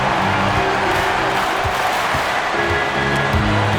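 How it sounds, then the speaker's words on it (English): A fired-up arena crowd roars continuously in NBA 2K26, a loud, dense wash of cheering and whooping with commentary voices faintly underneath. "you gotta love hearing a crowd get this fired up"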